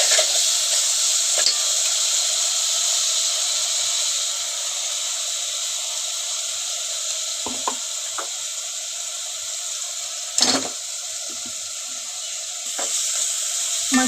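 Ground masala paste fries with sautéed onion for chicken curry, giving a steady, close sizzle throughout, broken by a few sharp scrapes and knocks of stirring.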